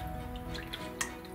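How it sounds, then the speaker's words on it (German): Water trickles through a small funnel into a spray bottle while a natural bathroom and tile cleaner is mixed; the flow is faint and steady, with a few soft drips and no voices. "die 250 ml Wasser, die habe ich hier abgemessen. Die kommen in die Sprühflasche."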